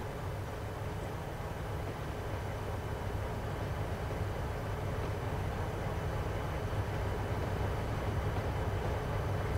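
A surf train rolls along the track toward a staging track in a rail yard, giving a steady, even rumble of wheels and cars that fills the whole stretch with no voices.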